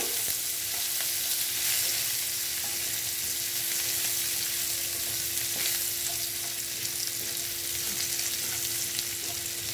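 Chopped onions frying in a pan for a Bengali egg dish, a steady hiss of sizzling oil with occasional soft stirring sounds, continuous and fairly close with no talk.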